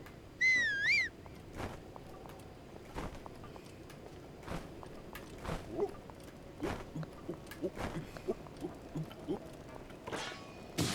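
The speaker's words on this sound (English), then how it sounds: "And now whistle." A short, wavering melodic whistle from Link in Zelda: Breath of the Wild near Gerudo Town rings out once, followed by soft game footsteps and scattered small in-game clicks and thuds.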